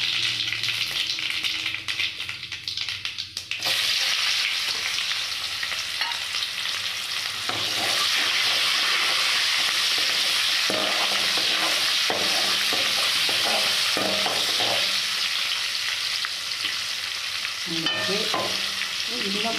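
Mustard seeds and asafoetida sizzle in hot oil in a pan for a Salem-style fish gravy, a steady bright frying hiss broken by repeated scraping stirs of a spoon.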